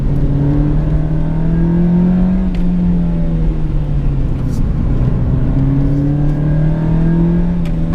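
A 1991 Nissan Silvia with an SR20 engine and no limited slip differential, revving hard in low gear, heard as a loud, continuous engine drone whose pitch climbs, falls back and climbs again, with faint clicks.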